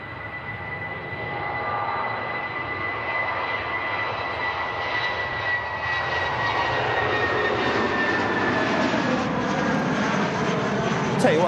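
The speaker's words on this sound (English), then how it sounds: "British Airways on the way down to London Heathrow." A British Airways airliner passes overhead near Manchester Airport, a loud jet engine roar building steadily with a rising whine, heard from outdoors.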